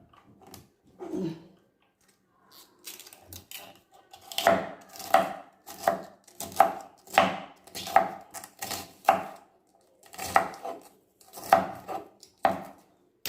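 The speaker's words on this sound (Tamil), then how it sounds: "இப்போ இது எல்லாத்தையுமே நம்ம வெஜிடபிள் கட்டரில் சேர்த்து கொஞ்சம் நல்லா நைஸாக இது பண்ணிக்கலாம்" Rhythmic chopping of cabbage in a vegetable chopper, about a dozen sharp crunchy strikes in steady succession after a quiet start, close and fairly loud.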